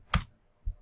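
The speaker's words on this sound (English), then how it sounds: "going ahead and typing the URL" Two quick, close keystrokes on a computer keyboard while a URL is typed, a sharp click followed by a softer one, with no talk.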